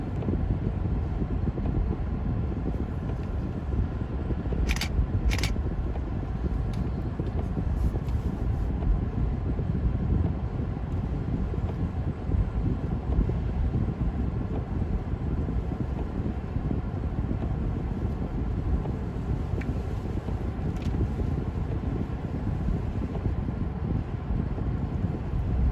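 Wind blows steadily in the mountains as a continuous rumbling buffet, with a few faint high ticks, and it lasts the whole stretch without any break.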